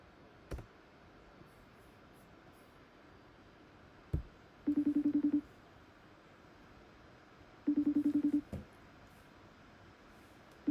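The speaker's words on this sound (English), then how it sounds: "It's ringing for a long time." A telephone call rings out as a faint, low buzzing ringback tone in evenly spaced pulsed bursts, repeating over quiet background hiss with a few soft clicks.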